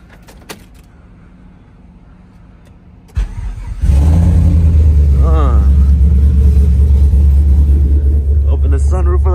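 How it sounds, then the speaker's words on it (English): A truck engine cold-starts after a quiet stretch: a brief cranking burst, then it catches into a loud, steady, rough idle with a choppy low rumble that continues to the end, with voices briefly over it. "let me do it with a little cold start real quick"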